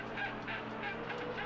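Ducks at a duck packaging plant in a film, a dense flock honking and quacking continuously and loudly, overlapping calls forming a steady noisy chorus with no speech.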